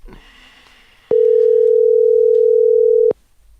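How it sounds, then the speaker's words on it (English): A telephone dial tone sounds during a call, a loud steady pure tone lasting about two seconds before cutting off, with faint background noise on either side. "you guys are going to have to put on the headphones to hear Brad when we call him"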